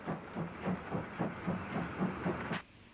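Romanian class 324 steam locomotive working, rhythmic chuffing exhaust beats at a steady pace with a hissing steam background, fairly close, ending in a brief sharp hiss before cutting off.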